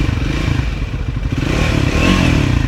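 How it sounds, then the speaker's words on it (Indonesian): A Triumph Speed 400 or Scrambler 400X single-cylinder motorcycle engine idling steadily near the microphone, a loud even thumping throb with a slight rise in revs toward the end and no talk. "Kita coba hidupin dulu mesinnya, bagaimana suaranya. Nah, suara mesinnya seperti ini."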